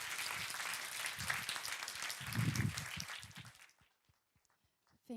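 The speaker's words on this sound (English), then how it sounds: "A warm welcome and applause to Miss Sutkovine from Manoguru," An audience at a social business conference claps to welcome a speaker, a full burst of applause that dies away after about four seconds into a few scattered claps.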